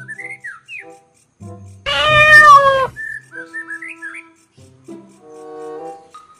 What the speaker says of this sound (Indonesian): Ini hewan kucing.